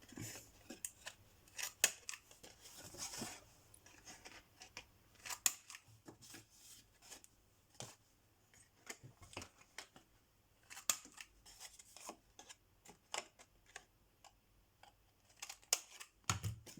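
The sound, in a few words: corner punch rounding card corners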